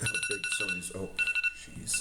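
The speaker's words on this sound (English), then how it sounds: "that was my alarm" An alarm rings with steady high electronic tones that run beneath someone talking at a poker table, the ringing continuing throughout while the speech dominates.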